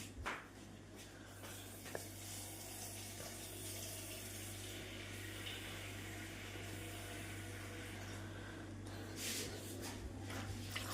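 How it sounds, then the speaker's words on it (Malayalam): Water is poured into a cooking pot for sambar, a faint, even rush of splashing over a low steady hum, with a couple of brief knocks near the start and end. "വെള്ളം ഒഴിക്കണം"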